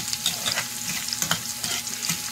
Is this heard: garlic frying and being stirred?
yes